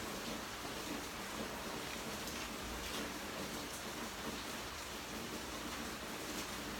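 Steady rainfall, a soft, even hiss of drops on surfaces heard from close by, faint and continuous with no talk over it.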